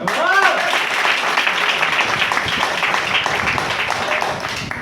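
An audience claps in a dense, continuous round of applause at a gathering, with a voice briefly audible at the start.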